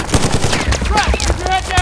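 Rapid gunfire from a military action film, a dense run of overlapping shots and bursts with shouted voices mixed in, loud and continuous throughout.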